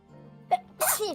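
A single sharp sneeze bursts out near the mic after a short vocal sound, followed by a brief trailing exhale.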